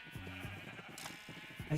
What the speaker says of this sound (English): Hanging out with the sheep I see.